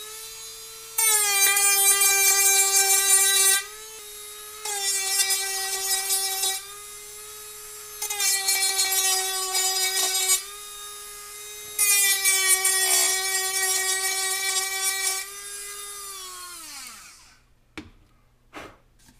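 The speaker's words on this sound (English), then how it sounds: "So you can take a drum sander on your Dremel and flatten those spots out." A Dremel fitted with a drum sander smooths hardened CA glue bumps on a rocket airframe: a loud, high rotary whine comes in four bursts separated by short pauses. It then winds down and gives a few faint clicks.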